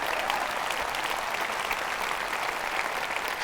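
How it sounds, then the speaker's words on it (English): A hall full of delegates at Ed Miliband's 2014 Labour Party conference speech breaks into applause: a continuous, dense wash of clapping from a large crowd, even in loudness throughout, with no voices on top. "let's have another round of applause for her and the great job she is doing."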